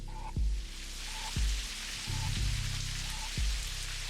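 Steady rain falling outside in the game Necrobarista, a constant wash of rainfall with soft periodic low thuds and faint tones layered over it, no voices.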